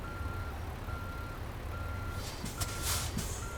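A truck reversing into a parking spot in American Truck Simulator: a steady, evenly spaced reversing beep repeats over a constant low diesel engine rumble, with a few air-brake hisses near the end.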